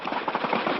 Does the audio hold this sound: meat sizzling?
no